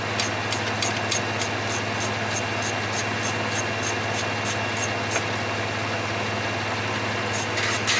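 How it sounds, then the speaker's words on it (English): A 2018 Chevrolet Colorado idles steadily in a shop, a constant low engine hum with a faint regular ticking pulse over it, no voices. "So we got the vehicle running up and level."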